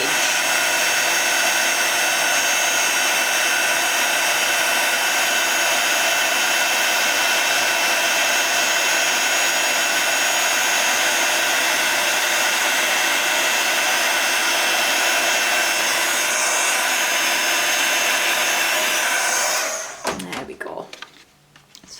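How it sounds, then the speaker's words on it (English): A heat gun held steady to melt silver embossing powder on a Christmas card gives off a loud, constant blowing whir that runs on without a break and cuts off sharply near the end. "So you're just going to use your heat tool, hold that heat gun still, and as soon as you see that powder melt and change"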